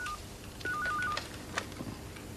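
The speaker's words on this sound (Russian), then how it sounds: "Телефон." A telephone is dialed in a 1980s British detective drama, a quick series of short electronic touch-tone beeps followed by a faint click, heard fairly quietly against room tone.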